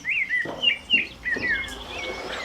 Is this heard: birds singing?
yes